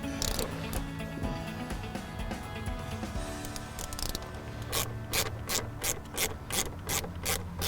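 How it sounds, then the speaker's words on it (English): A ratchet on an extension works a top cover bolt loose on a 2001-2005 Chevy Duramax LB7/LLY transmission, first irregular rubbing and handling, then a quick run of sharp, evenly spaced clicks close by. "I just use an extension to pop it off right here and just get that bolt out"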